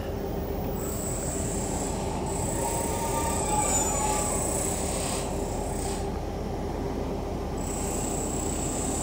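A Northern Rail passenger train on the Barnsley to Huddersfield line hums steadily along from inside the carriage, with a constant rumble, faint wheel noise and a high, thin squeal running through most of the ride.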